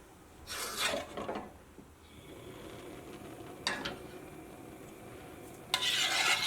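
Intermittent scraping strokes of a spoon stirring a thick pudding mixture in a pan on the stove, a few short bursts over a faint steady hiss.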